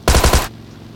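A quick burst of four rapid video-game gunshots, loud and close, ending abruptly after half a second with no talk over it.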